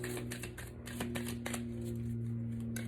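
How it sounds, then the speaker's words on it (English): Romance angel cards being shuffled by hand, a dense run of quick riffling flutters and soft slaps in short bursts over a steady low hum, with no talk. "So let's pull also some romance angel cards."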